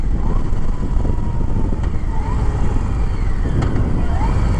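A vehicle engine revs hard and steadily on a racetrack, with rising and falling pitch sweeps as it accelerates and shifts gears; the engine note stays loud and continuous throughout.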